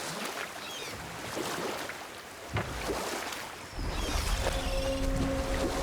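Rowboat moving through water in the game God of War, with soft oar splashes and lapping waves over a low wind bed at moderate volume, no talking.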